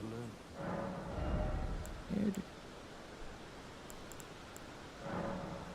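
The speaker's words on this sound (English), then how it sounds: "The thunder is back." Thunder in the video game Elden Ring during a boss fight, with low rumbling swells that rise and fade twice over steady background noise.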